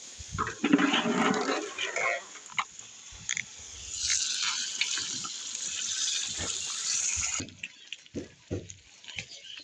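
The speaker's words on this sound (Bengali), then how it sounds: "কত সুন্দর টকবক করতেছে গরম চুলার উপরে" A pot of haleem bubbles on a hot stove with a thick, irregular gurgling and popping, close up, while a voice talks over parts of it.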